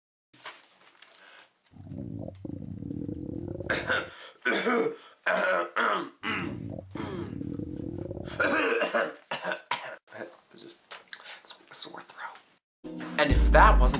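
Someone coughs and clears their throat in a series of short, close bursts, with quiet gaps between them.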